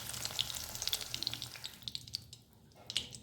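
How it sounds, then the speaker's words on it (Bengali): Eggs browning in ghee in a pan, a soft, fairly faint frying crackle with scattered sharp pops and brief spits, easing slightly near the end. "এখানে আমি ঘি দিয়ে ভাজাভুজি করলাম"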